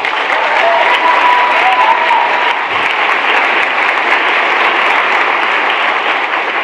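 A large audience at a United Nations speech applauds loudly and continuously, a thick wash of clapping that stays at a constant level throughout.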